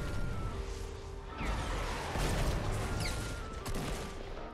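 Gunfire and crashing effects in the video game Fortnite, a dense, fairly faint jumble of shots, impacts and whooshes running continuously.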